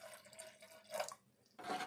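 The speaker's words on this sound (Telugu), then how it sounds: "కొంచెం వాటర్ వేసుకుందాము." Water is poured into a pot of thin ridge gourd dal in two short, faint splashing bursts separated by a brief pause, with no voices.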